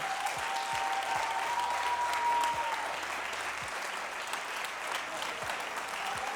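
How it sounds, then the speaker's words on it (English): Steady applause from a crowd at a State of the Schools address fills the whole stretch at an even level, with a faint voice near the start. "So let's give her a round of applause."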